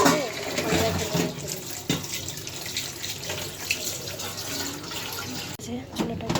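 Kitchen items washed under a running tap at a sink, water splashing and pouring steadily at close range while a person talks over it.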